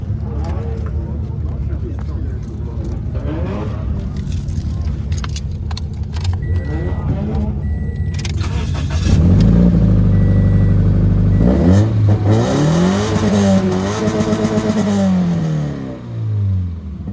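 A car engine at a car meet fires up and revs through its exhaust, loud and close, with rising and falling pitch sweeps over background chatter and jangling keys.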